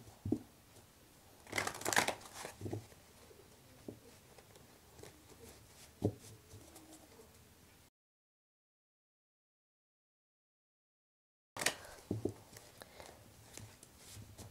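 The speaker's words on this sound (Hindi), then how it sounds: "चलो मैं ऐसे शफल करती हूँ।" Tarot cards being shuffled in bursts of riffling and sliding, close and fairly quiet, with a silent gap partway through before the shuffling resumes.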